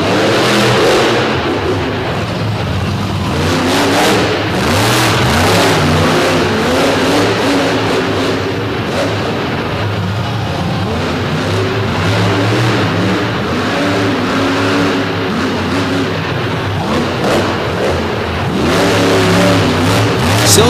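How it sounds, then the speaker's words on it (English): A 2014 Ford Super Duty pulling truck with a 540 cubic inch Chevrolet engine mounted in the back roars at a truck pull in Illinois, the loud engine revving and straining continuously and close, its pitch rising and falling. "2014 Ford Super Duty with the 540 cubic inch Kevin Stauffer built Chevrolet power plant in the back"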